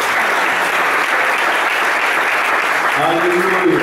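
A church congregation applauds steadily throughout, a dense, even wash of clapping that fills the room, with a voice or sung note rising faintly beneath it near the end.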